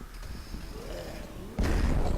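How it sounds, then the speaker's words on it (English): A grenade goes off in the video game Dead Purge: Outbreak: low, steady game ambience gives way to one sudden, loud, broadband blast that rumbles on to the end. "Time for a grenade."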